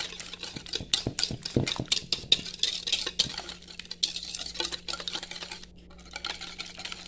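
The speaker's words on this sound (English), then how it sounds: "add half a cup of sugar into that bowl, and then whisk these together" Eggs and sugar are whisked in a bowl, giving quick irregular clinks and scrapes of the whisk against the bowl, close and fairly loud, with a steady low hum behind and no speech.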